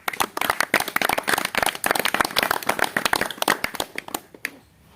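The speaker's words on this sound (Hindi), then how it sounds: "एक बार बहन जी के लिए ताली बजा" A small audience at a yajna programme at a naturopathy and yoga center in Koealpur, Jhajjar, Haryana, claps for a speaker, producing dense, close, irregular applause that tapers off after about four seconds.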